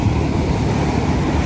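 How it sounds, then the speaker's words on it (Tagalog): Strong ocean waves roll in at San Felipe beach in Zambales, a loud, continuous wash of surf mixed with wind buffeting the microphone, with no voices. "Tsaka sobrang lakas ng alon,"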